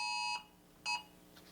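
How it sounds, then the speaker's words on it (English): A mobile phone sounds an emergency alert for a tornado warning: a loud, harsh multi-tone blast, a short pause, then another burst, heard alone without talk. "That is my phone interrupting me with an emergency alert."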